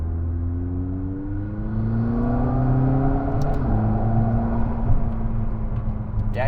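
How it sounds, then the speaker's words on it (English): Air rushes through the roof scoop intake of a McLaren 600LT as it accelerates on an open road, a steady whooshing intake and engine drone rising in pitch, heard from inside the car. "That's air flowing through the channel right here and into the engine."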